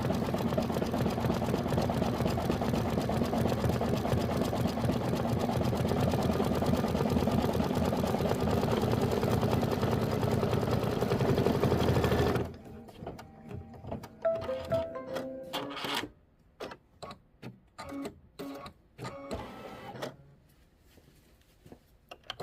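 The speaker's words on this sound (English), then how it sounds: "After it stitches down this lemon, just go ahead and hit start again and use the same yellow to do the satin trim around lemon number 3" A Kimberbell embroidery machine stitches satin trim around a yellow lemon appliqué on a lemonade mini quilt block, its steady rapid whirring running loud and close for about twelve seconds before stopping, then scattered clicks and handling noises.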